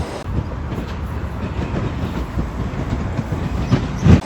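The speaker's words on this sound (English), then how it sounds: "And behind me is a tram." An underground tram in Russia rumbles steadily through the whole stretch with a clickety-clack of wheels on rails. It is close and loud, with a heavier thump near the end.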